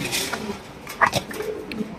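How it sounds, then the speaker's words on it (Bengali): Male fancy pigeon of the beauty breed at a pigeon farm gives a few short cooing calls, close and moderately loud, with faint background noise and no talk. "নরের ডাকটা দেখে দিলাম"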